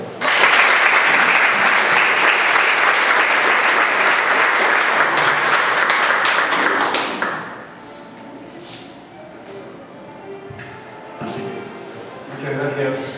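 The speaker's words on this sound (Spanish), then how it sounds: "Un aplauso para él." Audience applause fills a lecture hall for about seven seconds, loud and steady, then stops abruptly and gives way to quieter room sounds and faint talk.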